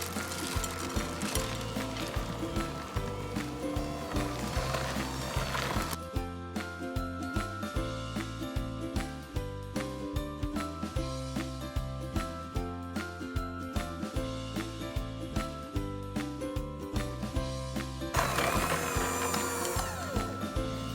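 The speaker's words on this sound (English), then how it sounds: "that is why you want to use your electric mixer, because it's gonna get pretty thick and heavy to move" An electric mixer works through thick, heavy chocolate chip cookie bar batter, producing a steady rattling mechanical whir with rhythmic clicking and knocking throughout, close and loud, its tone shifting slightly as the beaters push through the stiff dough.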